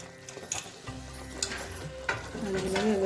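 A sesame and jaggery mixture is stirred in a pan over medium heat, giving soft, irregular scraping and faint sizzling with a few sharper knocks, quiet and unhurried with no talk.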